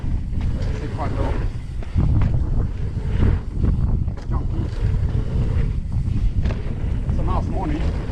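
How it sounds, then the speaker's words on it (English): Breezy morning wind on a forest mountain-bike trail, gusting and rumbling across the microphone as a steady low roar with louder bursts. Someone talks over it for most of the clip. "Nice morning, quite breezy."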